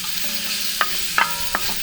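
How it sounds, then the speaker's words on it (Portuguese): Lamb spine frying in a pan with a steady bright sizzle, broken by three sharp scrapes of a utensil stirring the pieces, close and fairly loud. "Frita bem, fica um bom tempo Frita bem. fritando até dourar bem"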